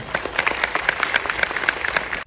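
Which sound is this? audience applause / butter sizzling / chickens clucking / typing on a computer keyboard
audience applause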